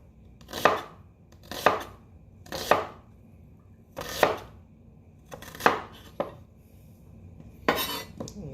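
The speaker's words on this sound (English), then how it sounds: "go ahead and slice that onion really good there." Knife slicing through an onion on a cutting board, about seven sharp chopping strokes spaced roughly a second apart, close and distinct with quiet pauses between.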